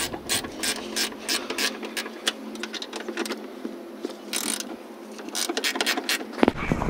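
A ratchet loosening the coilover bolts on a Toyota 86: rapid, close pawl clicking in bursts, with short pauses between strokes and a louder clack near the end.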